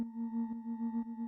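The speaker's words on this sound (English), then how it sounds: "what I did here is I have several sine waves" Several layered sine waves hold a steady drone while their pitch is slowly modulated, a pure hypnotic techno texture with a soft pulsing swell roughly every half second, alone and fairly quiet.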